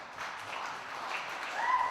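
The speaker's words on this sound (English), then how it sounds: "That applause didn't sound like the applause for the champ." An audience applauds at a youth taekwondo tournament, a moderate wash of steady clapping with a whistle or cheer rising near the end.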